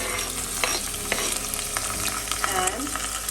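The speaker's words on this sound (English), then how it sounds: "Now I'm going to add finely chopped onions" Chopped onions hit hot oil with whole spices in a pan for Indian parotta salna, giving a steady close sizzle with stirring scrapes and a few sharp spatters, no talking.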